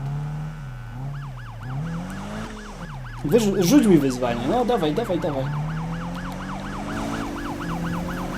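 A wailing police siren in the racing game Need for Speed (2015) cycles steadily throughout, joined by game engine and crash noises, while someone talks excitedly over it.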